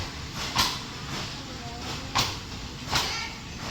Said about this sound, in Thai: วันนี้จะมีขบวนรถไฟ กรุงเทพอุบลขบวนที่หนึ่งสิบ กำลังถอยเข้าเทียบสันตลา